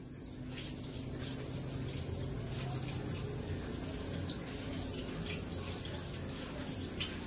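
Running water flows steadily as food is washed for a salad during a seaside cookout, a soft continuous splashing stream with a few faint clinks, fairly quiet and without talk.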